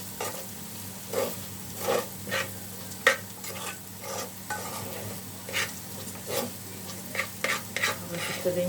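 Tomato sauce bubbles and spatters in a pan on a gas stove, a soft steady sizzle broken by repeated stirring scrapes and pops at an uneven rhythm.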